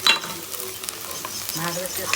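Quiet sizzling of onions frying in oil with scattered clinks and scrapes of stirring, close by, with a faint background hum.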